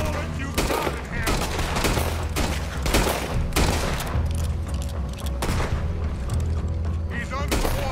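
Heavy gunfire in Red Dead Redemption 2 roars almost without pause in loud, overlapping bursts and booms, while voices shout over the shooting.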